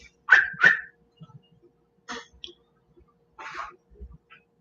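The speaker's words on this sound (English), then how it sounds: "That's my dog. Can you hear my dog?" A dog gives two sharp, high whimpering yelps close by, followed by a few fainter whines and scuffs with quiet gaps between them.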